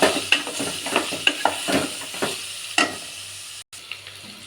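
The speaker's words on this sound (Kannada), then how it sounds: "ಈ ರೀತಿ ನೀಟಾಗಿ ಫ್ರೈ ಆದಮೇಲೆ ಈರುಳ್ಳಿ" Onion frying in a pan, with a soft sizzle under repeated scraping stir strokes at an uneven rhythm, close and moderately loud, then a brief dropout and a quieter sizzle.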